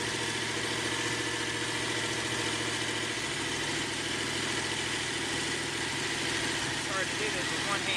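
A blower drawing wood gas out of a unit runs as a steady, even engine-like drone throughout, close and constant, with a voice faintly over it.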